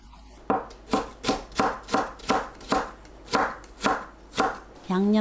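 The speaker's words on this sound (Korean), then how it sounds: "당근과 오이를 채 썰어서 준비합니다." A knife julienning carrots and cucumber strikes a cutting board in about ten evenly spaced, close chopping strokes, each a crisp thud with a brief slicing rasp, no talking.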